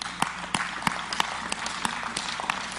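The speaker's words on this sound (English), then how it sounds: "I know you're clapping" A church congregation applauds together, sharp individual claps landing in an uneven rhythm over a steady wash of background noise, moderately loud and close, with no talking.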